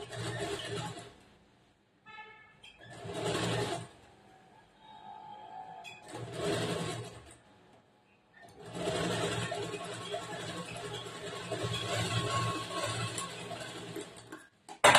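A sewing machine stitches a blouse in several runs. It whirs loudly for about a second each time, stops for short pauses, and ends with one long steady run. Light handling noises fill the gaps.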